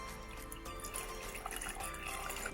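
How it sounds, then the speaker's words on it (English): Cold water pours steadily into a container as the first step of a homemade chemical volcano, a continuous close splashing trickle with no talking. "So first step, let's put this cold water."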